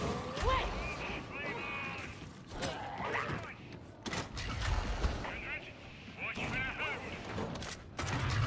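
Rapid gunfire bursts from a Columnus autogun in Warhammer 40K Darktide, sharp repeated shots in clusters with brief pauses, fired at close range amid game effects, while a voice talks over them.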